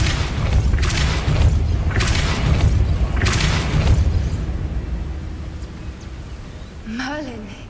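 Depulso, a spell in the Hogwarts Legacy video game, fires three forceful booming bursts with airy whooshes, then the rumble fades to quiet before a brief rising magical chime.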